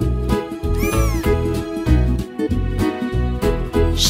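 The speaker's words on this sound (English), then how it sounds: "Cats like to chase mice." A cat meows loudly and repeatedly up close, several drawn-out, rising and falling calls with short gaps between them, alone without any talk.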